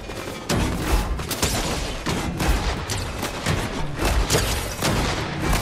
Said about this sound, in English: You keep shooting me with the minor pistol.